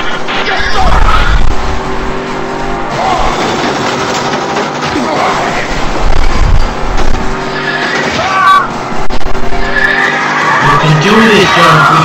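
A car skids after spikes are deployed during a police chase, with loud engine roar and tire squeal surging over about twelve seconds, while voices talk over the action.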